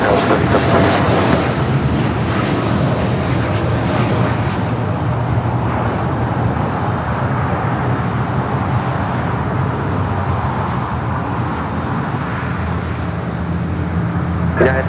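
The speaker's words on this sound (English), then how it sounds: "It's a 787-9 Dreamliner." A Boeing 787-9 Dreamliner landing at LAX gives a steady, loud, broadband jet roar that holds at an even level with a low rumble throughout, with no voices.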